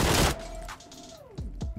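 Gunfire in the mobile battle royale game PUBG Mobile, Metro Royale mode: a sharp burst of shots at the start, followed by a couple of distinct, separate reports near the end.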